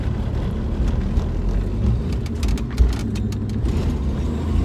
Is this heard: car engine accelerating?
yes